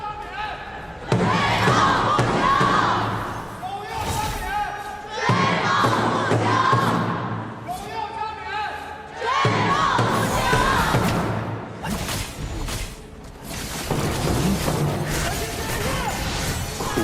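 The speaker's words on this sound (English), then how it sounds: "So let's hear the fans cheer for both sides again." A large arena crowd at a Honor of Kings esports tournament roars and cheers loudly in repeated waves, with shouting voices swelling and dipping throughout.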